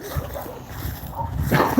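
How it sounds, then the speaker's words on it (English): Dogs give a short burst of yips and whimpering barks at moderate distance, then a louder yelp at the very end of the brief stretch. "The dogs are happy I'm back. They're barking again."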